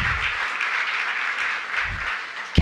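Audience applause for a council member at an Emancipation Day breakfast, a steady burst of many hands clapping that fades slightly toward the end.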